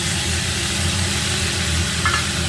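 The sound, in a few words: ground spice paste of ginger, garlic, onion added to hot pan, sizzling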